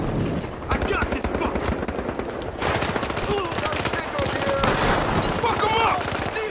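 Rapid gunfire in a first-person shooter match, dense bursts of rattling shots running nearly nonstop and close, mixed with in-game voices and effects.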